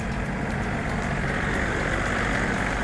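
A used Kubota EF393T 39-horsepower tractor with about 2,000 running hours runs at a steady idle, giving an even, continuous engine drone throughout.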